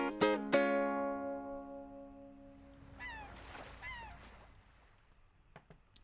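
A voice through a distortion plugin imitates a seagull: warbling, descending squawks, repeated a few times after a couple of sustained tones, with faint clicks trailing off.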